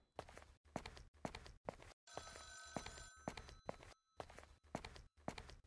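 An old telephone rings repeatedly inside a derelict building in the horror game Sinister, trilling for about two seconds between heavy, close footsteps that thud in a steady walking rhythm.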